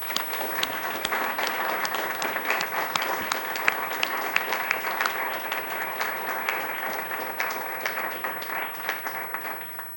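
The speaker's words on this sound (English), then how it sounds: "let's all give them a well-deserved round of applause" Dense, steady applause from an audience honoring student co-curators at a museum event, loud and continuous for the full length with no break.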